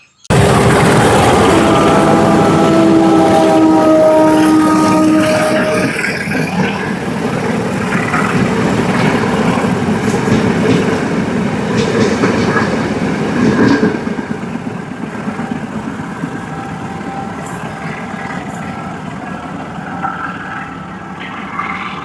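A loud train rushes past nearby, a heavy roar with squealing wheels that gradually fades into a softer rumble as it moves away.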